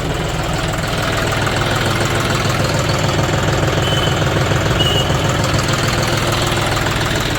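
A John Deere tractor engine idles steadily close by, a continuous low rumble with a faint knocking throb that holds even and unbroken throughout, with no voices.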